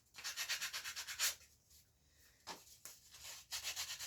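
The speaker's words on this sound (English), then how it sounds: "I'm just kind of sanding the..." Rhythmic scratchy sanding strokes on a wooden bow handle, close up, a quick run of back-and-forth rubs, a pause, then a few more passes.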